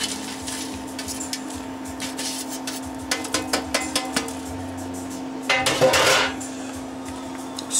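Roasted potatoes seasoned with butter, salt and pepper are tipped into a pot of soup and stirred, giving a run of light clinks and knocks, then a louder, denser scraping burst of stirring near the end, heard close against a steady background hum.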